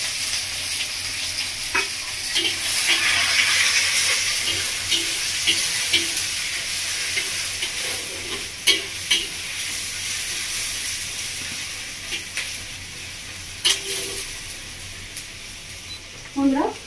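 Chopped onion and tomato hiss and sizzle in spiced oil in a Bengali village-style kitchen, a steady close frying sound with occasional stirring clinks and sharper pops.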